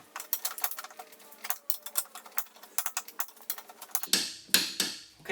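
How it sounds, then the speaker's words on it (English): A torque wrench clicking while push mower bolts are tightened evenly to set torque, a rapid run of close ratcheting clicks followed by a few louder, sharper clicks as the setting is reached. "that click tells you that there's enough torque applied to the bolts"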